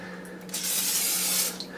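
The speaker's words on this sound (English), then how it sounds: "I usually do about a second of spraying" A single steady hiss of olive oil cooking spray lasting about a second, close and fairly loud, with quiet before and after.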